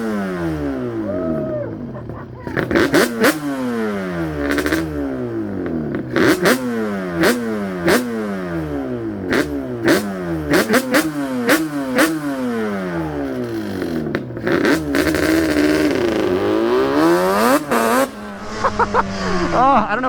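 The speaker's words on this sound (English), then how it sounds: "That's the tires just burning out. It's burning out and it's doing a wheelie" Yamaha Banshee ATV, a resto-mod build, revving hard in repeated rising and falling bursts while its tires burn out during a wheelie, loud and close, with people talking over the engine.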